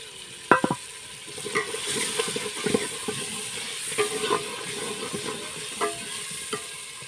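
Potatoes frying with tomatoes and onions in a pan on a village evening give a constant hiss. Sharp clinks and scrapes of a spoon against the pan cut in now and then, and no one speaks.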